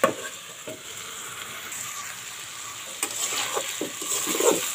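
Beetroot and potatoes frying in a pan give a steady, close sizzle with occasional scrapes and knocks of stirring, growing slightly louder toward the end; no one talks.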